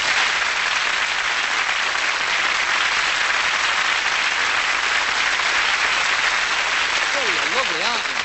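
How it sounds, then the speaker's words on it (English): Audience clapping after a magic trick on stage, continuous loud applause filling the whole span, with a voice speaking over it near the end. "because when you go flick, everybody claps."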